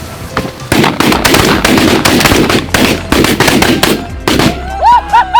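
Shotguns firing on a Kansas mallard duck hunt, a rapid volley of loud overlapping blasts from several guns for about four seconds, followed by a few faint bird calls.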